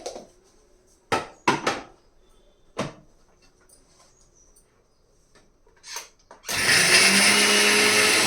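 Kitchen blender grinding fresh mint leaves and brown sugar into a paste, starting after a few short clatters and knocks with a loud steady whir that runs alone to the end.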